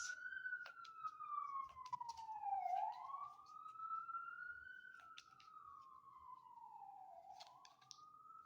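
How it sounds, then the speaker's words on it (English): A wailing siren rises and falls slowly in long sweeps, sounding somewhat distant and faint, with scattered clicks and other noises around it. "Yeah, I'm hearing sirens."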